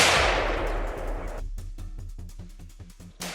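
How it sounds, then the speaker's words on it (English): Rapid gunfire at a herd of wild boars on farmland: a fast succession of sharp, loud shots, evenly spaced, crackling close by after a brief roar of wind or motion noise. "Without hesitation, I opened fire in succession, hoping to kill as many wild boars as possible."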